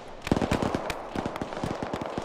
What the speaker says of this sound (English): And now the 50 cal's firing up here at friendlies